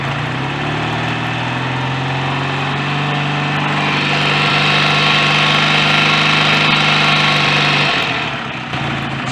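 A BSA A65 motorcycle engine runs steadily near and loud, then is held at about 3000 rpm with a sustained drone and rising mechanical whine before dropping back near the end.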